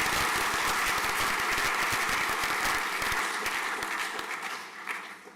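Audience applause at a school prizegiving at St Paul's Collegiate School: a full hall of clapping hands, dense and sustained, thinning into scattered claps at the end.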